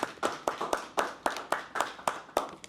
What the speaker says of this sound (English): Can we just give a round of applause for our mother?